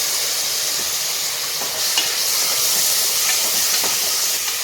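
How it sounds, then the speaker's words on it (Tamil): Chopped tomatoes drop into a sizzling pan of sautéed onions and mint for butter beans pulao, giving a steady, close hiss and sizzle with a few small crackles throughout. "இப்போ 2 தக்காளி நறுக்கி வச்சுருக்கேன், அதை சேர்த்துக்கலாம்"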